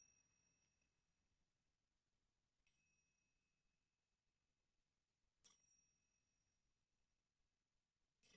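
A small bright bell is struck three times at slow, even intervals, each ding ringing out clearly and fading over about a second in an otherwise silent space.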